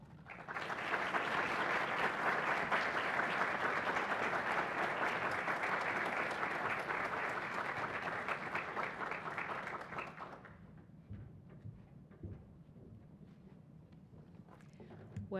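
An audience in Kansas City applauds as Governor Brainerd comes to the podium at a Federal Reserve event: steady, full clapping for about ten seconds, then fading into quieter room noise with a few scattered claps.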